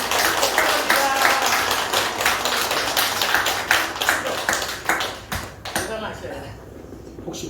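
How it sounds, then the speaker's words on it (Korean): Congregation applauding during a Baptist Sunday worship service, a dense run of hand claps that holds steady for several seconds, then thins into scattered claps before fading out. "박수 한번 해주시기 바랍니다"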